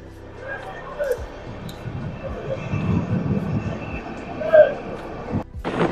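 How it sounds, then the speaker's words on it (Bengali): A Malda-to-Bangalore passenger train running past Bardhaman, heard from on board as a steady, continuous rumble of wheels and carriage noise throughout, with a few louder knocks and a brief sharp rattle near the end. "আমাদের ট্রেন টাইম টু টাইমই চলছে।"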